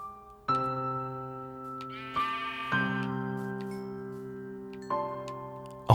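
Sheep bleating in Minecraft: several loud, wavering synthetic bleats in quick succession, each a sustained nasal cry, with no talking.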